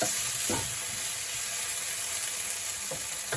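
Peppers and tenderstem broccoli sizzle on very high heat in a pan with a constant hiss, broken by a few soft scrapes of stirring.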